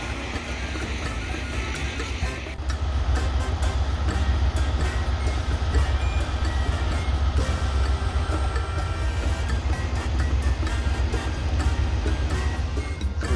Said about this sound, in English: that is the train that is ahead of us.